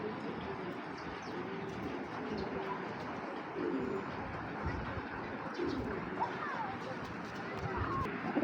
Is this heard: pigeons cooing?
yes